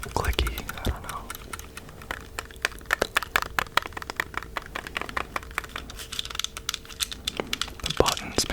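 Clicky buttons and triggers on a video game controller are pressed in quick, irregular taps up close, each a sharp crisp click over a soft background hiss, with occasional quiet whispering.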